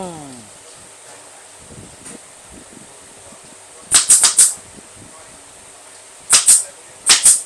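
A staple gun fastens bus seat upholstery in a workshop, firing in quick clusters of three sharp snapping shots, then two more bursts, loud and close over faint background noise.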